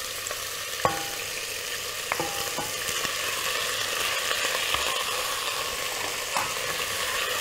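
Food frying in hot oil in a pot makes a dense, continuous sizzle, with occasional stirring clinks and scrapes rising over it.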